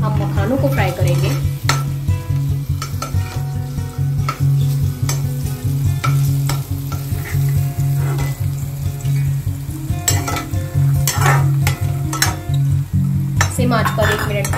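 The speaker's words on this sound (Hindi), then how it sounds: "देसी घी की कढ़ाई में हम मखानों को फ्राई करेंगे।" Fox nuts (makhana) frying in desi ghee in a kadai, a loud, constant sizzle with frequent scraping and clinking from a stirring spoon against the metal, close up.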